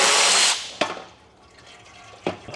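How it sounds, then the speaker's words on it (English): Transmission fluid from an 8HP automatic transmission pan, opened with a 10mm Allen, gushes out in a loud splashing rush that quickly tapers to a trickle, with a couple of metallic knocks nearby. "So we'll go ahead and drain it right now with a 10mm Allen."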